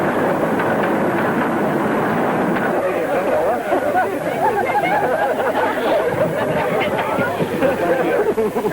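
Steady rumbling train noise with a rhythmic rattle, voices chattering throughout.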